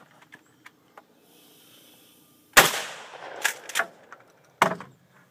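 Gunshots during a timed three-gun shooting competition run: one sharp, loud report, then a quick close pair and another single blast, each with a short ringing decay, after faint clicks and a hissy lull.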